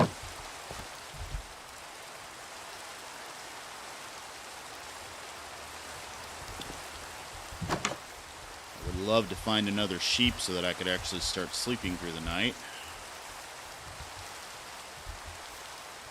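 Steady rain falling in a Minecraft survival world, a constant soft hiss running throughout underneath someone speaking and brief game effects.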